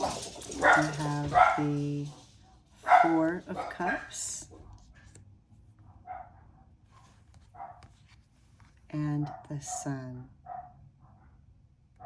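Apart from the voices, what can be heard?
dogs barking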